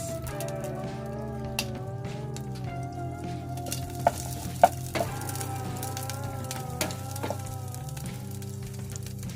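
Butter sizzles in a pan on the stove with a steady frying hiss and scattered crackles, close by under a continuous tonal background hum.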